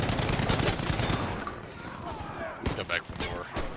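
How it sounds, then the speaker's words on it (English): Gunfire in a Battlefield match: rapid bursts and single shots crackling close and loud, with a distant burst after, while a voice talks over the shooting. "Oh, I'm getting shot left."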